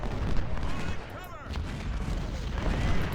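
Ten-pounder cannons fire in the Ultimate General: Civil War video game, a muffled rumble of distant booms and scattered gunfire that rises and falls over a few seconds beneath a busy battle din.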